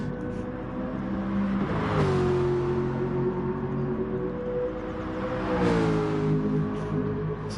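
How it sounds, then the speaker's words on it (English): Aston Martin race car in a racing video game drifting through hairpin bends, a steady engine drone that rises and falls with throttle, tonal whine shifting pitch, heard close and alone without talk. "the Aston is drifting his way around the hairpins"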